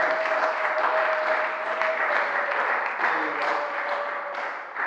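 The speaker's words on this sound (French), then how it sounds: "je dis acclamons très fort pour Jésus" A church congregation at an evening service cheers and applauds for Jesus, a dense sustained wash of clapping with voices shouting and a held vocal tone, loud and continuous throughout.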